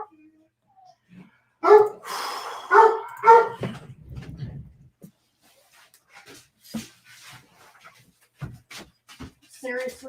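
A dog lets out a short cluster of three or four barks at moderate volume, followed by quieter scattered sounds and a person talking.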